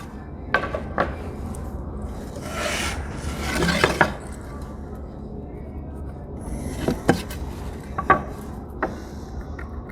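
Steel and nylon brushes scrub burnt wood boards in shou sugi ban style with a steady gritty rasping, broken by sharper scraping bursts and clacks as the brushes strike the charred surface close by.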